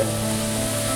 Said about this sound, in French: on l'entend là, comment ça grésille là.